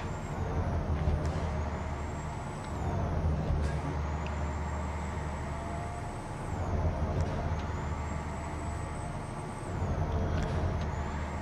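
An International 9800 truck engine in American Truck Simulator rumbles at a steady low drone, with a whining tone that rises and falls in repeated cycles as it runs alone.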